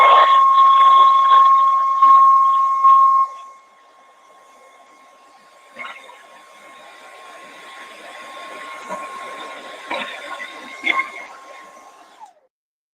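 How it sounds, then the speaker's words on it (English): A hair dryer heating plastic whines loudly for about three seconds, drops off, then hums more quietly under clattering handling noises before shutting off. "So I'm going to take one of these and use the hair dryer here and heat it."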